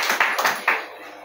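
A handful of claps from an audience, a few separate sharp slaps close together that quickly fade out.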